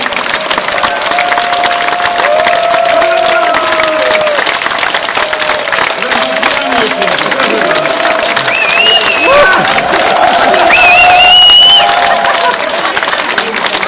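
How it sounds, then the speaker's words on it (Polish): Audience at an outdoor sea shanty concert in 2013 applauds and cheers loudly and continuously, with whistles and shouts rising over the dense clapping. "tutaj proszę o szczególne brawa"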